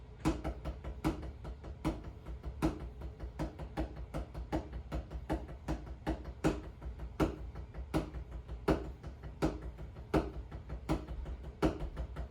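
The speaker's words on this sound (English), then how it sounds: "Now I'm playing one measure of singles, one measure of doubles, and then 2 measures of paradiddles" Steady, even drum strokes on a single drum playing rudiments (singles, doubles, then paradiddles), a fast run of evenly spaced hits that keeps going without a break, close and clear with no voices.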